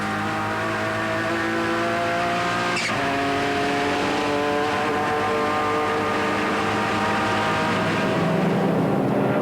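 Onboard a GT race car during a 1994 BPR series race, the engine howls loud and sustained, its pitch shifting through gear changes with a sharp shift blip and rising revs toward the end.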